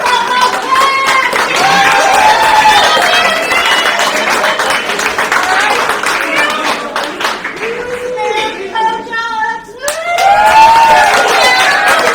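A crowd at a women's soccer national selection show cheers and claps for Campus Director Mary Hawkins. Loud, close clapping mixes with whoops and shouted voices, dips briefly, then swells again.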